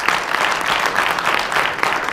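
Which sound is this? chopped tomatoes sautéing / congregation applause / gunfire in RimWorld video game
congregation applause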